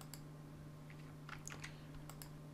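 Soft keystrokes on a computer keyboard during code editing, a few scattered clicks and short clustered taps, faint and close over a steady low electrical hum, with no talk.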